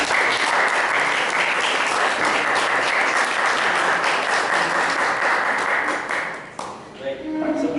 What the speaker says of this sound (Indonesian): Mari kita berikan aplaus kepada kelompok.